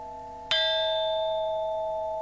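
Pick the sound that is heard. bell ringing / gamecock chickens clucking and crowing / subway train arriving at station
bell ringing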